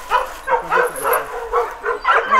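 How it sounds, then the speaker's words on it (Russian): An East Siberian Laika at a hunting-dog kennel gives a run of close, repeated yelping barks broken by whimpers, rising and falling in quick uneven bursts. "Восточно-сибирская собака, порода."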